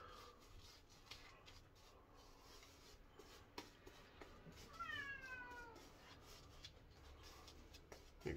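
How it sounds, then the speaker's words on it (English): A cat meows faintly from outside, a short drawn-out call rising over a quiet background of light rustling and handling noises. "You can hear my cat outside."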